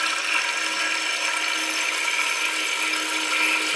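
A newly fitted water closet toilet with Fluidmaster parts flushes for the first time, a loud steady rush of water running throughout, close by and with no talking.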